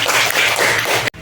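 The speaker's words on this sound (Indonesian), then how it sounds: "kasih tepuk tangan untuk kawannya semua" Students in a classroom clap for their classmates with a brief, busy burst of close, bright applause that stops abruptly after about a second.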